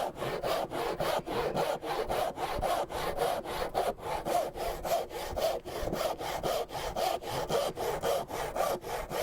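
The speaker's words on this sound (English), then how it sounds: "So here I'm using a regular hand saw." A regular hand saw cuts a wooden tenon in rapid, even back-and-forth strokes, each rasping pass clearly separated and close up, with no talking.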